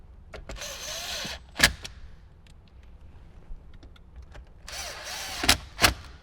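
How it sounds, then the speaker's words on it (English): A power screwdriver drives screws while a radio is fitted into a 2018–2023 Jeep JL Wrangler dash, two short whirring bursts with scattered clicks and knocks in between, close and loud. "So now we can just go ahead and get our other two screws in."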